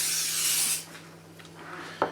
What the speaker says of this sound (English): So we very lightly spray the pan